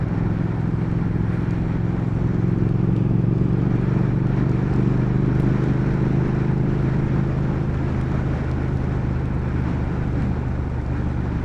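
A 2019 Triumph Speed Twin naked motorcycle on the road, its engine giving a steady, loud, continuous drone with wind noise as the rider cruises.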